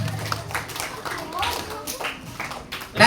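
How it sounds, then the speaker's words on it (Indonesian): Audience applause at a Ramadan pesantren school event, scattered claps and taps rising to a louder burst at the very end, mixed with crowd voices throughout. "Oke, sekali lagi tepuk tangan buat kita semuanya."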